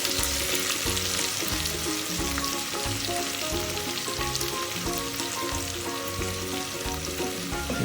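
Onion and carrot fry in a pan for egg biryani, giving a loud, continuous close sizzle with steady crackling throughout.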